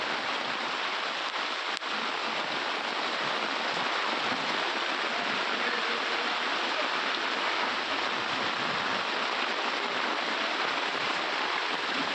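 Heavy rain falling over Hubballi city, a dense, steady roar of downpour that stays even and loud throughout, with no voices.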